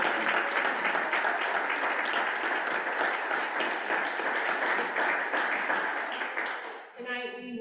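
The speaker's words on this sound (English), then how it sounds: "We can clap for them." A PTA meeting crowd claps for PTA presidents standing for recognition, a steady, fairly distant patter of many hands that tapers off near the end as a voice begins speaking.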